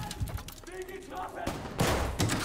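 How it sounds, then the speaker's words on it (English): Bursts of gunfire ring out in Call of Duty: Vanguard, several shots and short volleys at middling distance over a noisy battlefield, with a voice talking partway through. "Oh, he's shooting me?"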